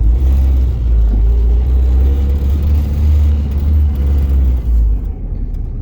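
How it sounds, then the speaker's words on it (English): A manual car's engine is given gas before the clutch is let out on a downhill, a loud, close, steady low rumble that holds throughout and eases slightly near the end. "in order to go, you have to give it gas first, just to build up a little pressure, then let off the clutch"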